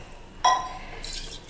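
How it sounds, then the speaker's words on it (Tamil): A sudden clink of a vessel followed by a brief splash and rush of water pouring into a cooking pot, about half full, while making green gram curry, close up. "போட்டு தண்ணி கொஞ்சம் ஊற்றிக்கலாங்க"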